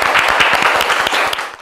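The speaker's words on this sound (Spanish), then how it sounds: "Un fuerte aplauso para Jorge Rauch." Strong applause from a studio audience welcoming chef Jorge Rausch onto a talk show, with close, individually distinct claps in a lively burst that eases slightly toward the end.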